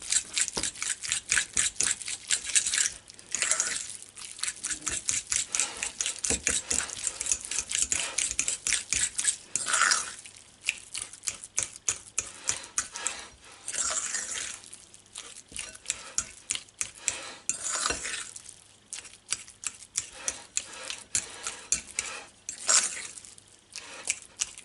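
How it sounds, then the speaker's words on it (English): Walnut cheese made with garden walnuts is mixed by hand, giving a close, continuous run of wet squishing, rubbing and sticky smacks in quick irregular strokes, with no voices. "Put that there and just give it a real good mix."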